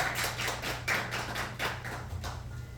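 Scattered audience clapping at a live music performance in a small venue, light and sparse taps at moderate distance with no voices over it.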